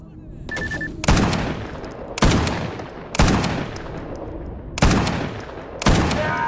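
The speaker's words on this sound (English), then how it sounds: "Who else is over here shooting at me?" Gunfire in the game Stalker Gamma: five loud, separate blasts about a second apart, each ringing off in a long echoing tail, close and heavy, with a brief tone before the first.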